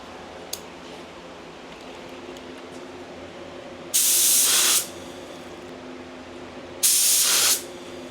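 A paint spray gun set to 30 psi, being tested before painting a truck, fires two loud, hissing bursts about a second long each, separated by a few seconds of quiet room hum.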